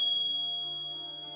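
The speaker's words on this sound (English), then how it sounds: "you have chosen the Buddha bell" A Buddha bell struck once before the clip and left ringing, its bright, pure tone sustaining alone and fading slowly, close and clear.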